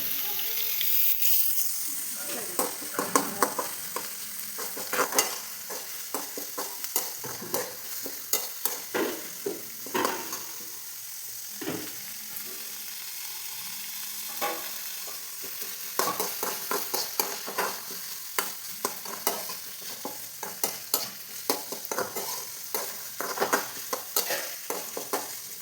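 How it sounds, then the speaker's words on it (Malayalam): Shallots sautéed in a pan for a tomato curry, giving a continuous soft sizzle with frequent scraping clicks of a spoon stirring, close and fairly quiet. "ചെറുള്ളി നമുക്ക് കുറച്ചൊന്ന് വഴറ്റിയെടുക്കാം."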